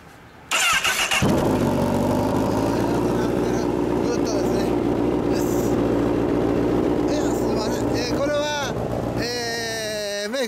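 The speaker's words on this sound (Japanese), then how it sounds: "エンジン音聞かせてもらえますか？" A 2002 Yamaha Majesty 250 racing scooter starts after a brief rustle and settles into a loud, close, raspy idle with a few rising revs near the end, while people talk over it.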